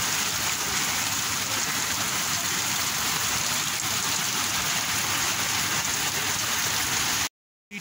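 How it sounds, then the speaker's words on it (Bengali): Heavy rain pours steadily onto surfaces as a dense, loud hiss that holds for over seven seconds before a sudden brief cut to silence. "বেশ ভালো জোরেই বৃষ্টি হচ্ছে"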